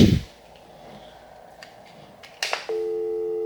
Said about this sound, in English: let's just verify that we have dial tone.